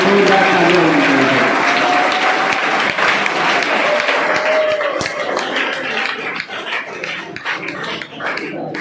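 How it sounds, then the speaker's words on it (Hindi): Loud applause from a crowd of students and staff at a school motivational seminar in a college hall, sustained and dense throughout, with a dog barking briefly in the mix and faint voices underneath. "जोरदार तालियां होनी चाहिए मिस अंजू के लिए"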